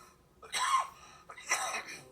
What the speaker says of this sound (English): you guys see how he's coughing?